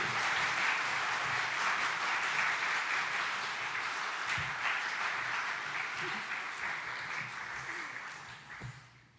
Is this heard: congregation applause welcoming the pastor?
yes